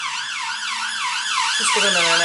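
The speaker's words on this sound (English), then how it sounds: "Sorry about the siren." Siren of a passing emergency vehicle wails in a rapid rising and falling sweep, loud and close, while a person talks briefly over it.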